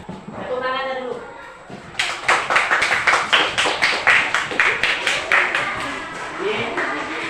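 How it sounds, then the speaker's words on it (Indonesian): Students in a classroom clap their hands in a quick run of sharp, rhythmic claps right after a teacher speaks, fairly close and loud, with a voice over the start. "Tepuk tangannya dulu."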